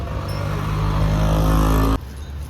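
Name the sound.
vehicle passing by a roadside stall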